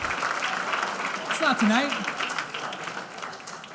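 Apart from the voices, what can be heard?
audience round of applause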